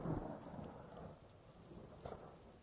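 Video game rain falls in a constant hiss with a low thunder rumble rolling through at the start and again near the end, fairly quiet overall.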